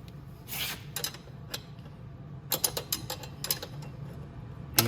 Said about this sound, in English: you're going to need your 13 mil wrench